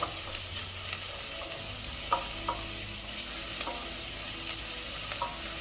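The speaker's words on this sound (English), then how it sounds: "I'm going to add my 1 onion, and I'm gonna let this brown a bit" A chopped onion fries for a mince curry, hissing steadily in hot oil while a spoon stirs it, with light scrapes and taps against the pan at a close, even level.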